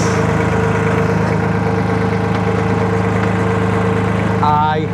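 A tractor engine idles steadily while an Iron Bull TWB14 equipment trailer tilts down, a constant mid-pitched rumble with a brief mechanical whine near the end.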